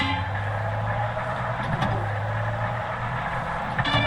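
A car driven in the video game Far Cry 6 gives a steady, continuous engine drone with low rumble and road noise, fairly loud and unchanging throughout, with no talking.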